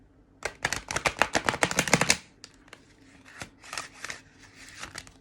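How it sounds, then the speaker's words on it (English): A tarot card deck being shuffled by hand: a rapid burst of crisp, close riffling snaps for about two seconds, then a brief pause and softer, scattered shuffles and taps. "that deck was quite happy being shuffled"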